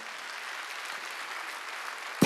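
A church congregation applauds during a Sunday worship service, a steady, even wash of many hands clapping held at a moderate distance for about two seconds before a sharper burst at the end.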